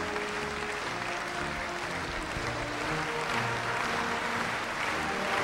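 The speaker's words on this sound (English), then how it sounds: "We're hearing rhythmic clapping from the floor to the third gallery." Lawmakers and gallery spectators in a legislative hall applaud at a state of the nation address, a continuous broad wash of clapping from a large crowd heard at a distance.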